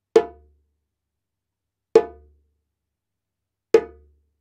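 Three separate tone strokes on a Malian hand drum, played with closed fingers, ring out as sharp, resonant hits spaced nearly two seconds apart, each decaying quickly into silence.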